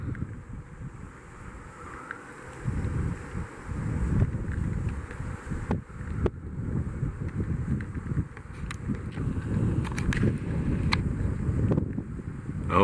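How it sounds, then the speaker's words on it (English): Wind blowing across a mountain top in the Sawtooth Mountains, a low, rumbling rush that swells in gusts and buffets the microphone, with scattered faint clicks and no voices. "Oh, still windy and cool up here."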